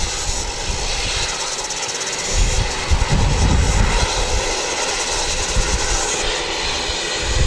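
An ATR turboprop airliner at Wellington Airport gives off a loud, steady engine roar that swells slightly midway, heard close and without talk.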